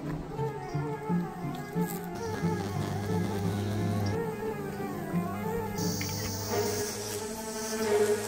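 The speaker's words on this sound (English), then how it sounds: "This is Megakai Pluto, the world's largest bee" Wallace's giant bee, Megachile pluto, the world's largest bee, near its nest in the North Moluccas, makes a close, sustained droning buzz whose pitch wavers and shifts throughout, with no speech.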